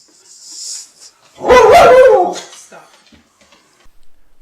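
A single short dog bark, fairly close and sharp, with a faint yip just before and brief quiet sounds trailing after.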